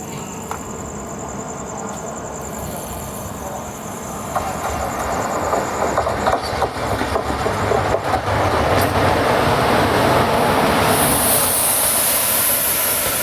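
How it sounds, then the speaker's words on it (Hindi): A Ballarshah–Mumbai Nandigram Express with older ICF coaches pulls into a station, its rumble and clatter swelling steadily louder and nearer, with a sharp high hiss joining near the end. "तो ये आ गई बल्लारशाह मुंबई नंदीग्राम एक्सप्रेस।"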